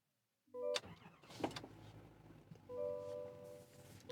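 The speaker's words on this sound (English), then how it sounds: "So I'll go ahead and start the truck." A 2025 GMC AT4 3500 heavy-duty pickup starting up, with a short crank and catch from silence, a few clicks and chimes, then the engine settling into a quiet idle heard from inside the cab.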